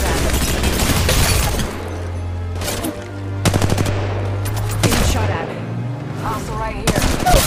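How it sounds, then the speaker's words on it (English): Rapid automatic gunfire from the Apex Legends Mobile video game crackles in loud bursts separated by short pauses, with a low droning tone and game sounds beneath. "Getting shot at."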